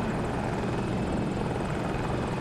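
Continuous roar of a video game helicopter on the Hourglass map, heavy low rotor churn and engine drone at constant loudness, sounding near and uninterrupted.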